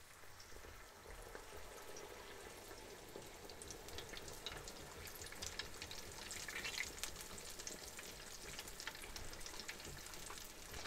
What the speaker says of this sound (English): maybe we should start frying mine while we make yours